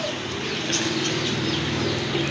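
Pigeons at a pigeon farm, a soft cooing and fluttering murmur steady under a broad background hiss, fairly close and continuous with no distinct single call standing out.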